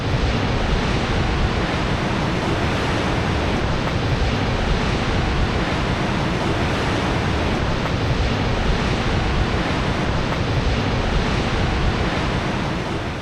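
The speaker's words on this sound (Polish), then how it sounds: "Pod koniec dnia szum wiatru i oceanu przybrał jeszcze na sile." Wind and ocean surf roar steadily along the Bunda Cliffs on Australia's southern coast, a loud, continuous broadband wash with no breaks and no voices.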